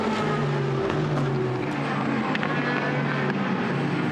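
Blancpain GT Sports Club race cars roar through turn 11 at Misano, loud sustained engine drone with shifting pitch as cars flash past close by.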